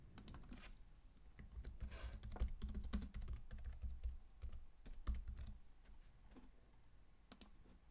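Steady keyboard typing while a supplier name is entered during 1C:Drive ERP software setup, with a quick, irregular run of clicks close up and no talking.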